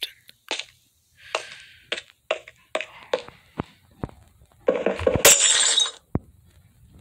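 Glass breaking in a Minecraft Five Nights at Freddy's game: a run of sharp, separate clinking hits followed by a louder, longer shattering burst, then one last crack, with no talk.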